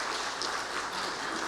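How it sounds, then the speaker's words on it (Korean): A church congregation applauding to welcome visiting guests, a steady wash of many hands clapping together, soft and somewhat distant, continuous throughout with no distinct voices. "일어나 주시면 박수로 환영드리겠습니다"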